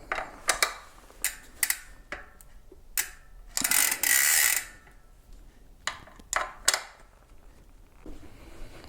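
Ratchet or torque wrench tightening Shimano crankset bolts, a series of sharp metallic clicks in uneven bursts with one longer ratcheting rasp in the middle, close and quiet with no talking.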